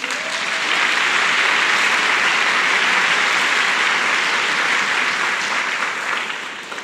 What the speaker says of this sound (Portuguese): Aplauda esse irmão.